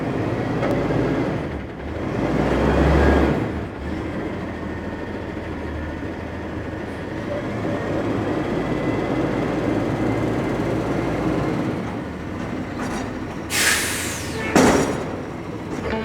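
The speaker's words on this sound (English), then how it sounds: "I will go and film some garbage truck madness happening outside" Loud, rumbling heavy vehicle noise outside, with grinding mechanical whines and a sharp hiss partway through; a garbage truck at work.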